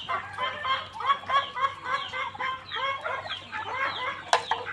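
Many Bengaluru-breed chickens at a poultry farm cluck together in a busy, continuous chorus, fairly faint and steady, with a brief sharper squawk near the end.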